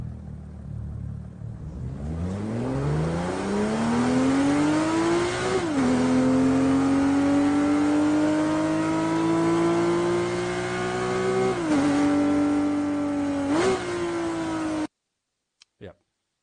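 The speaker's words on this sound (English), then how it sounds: "Rev2 is meant to do really cool engine and vehicle sounds" Engine revving produced by the Crankcase Audio Rev2 granular synthesizer for game audio, a loud continuous tone climbing in pitch through gear-like shifts over several seconds, then stopping abruptly.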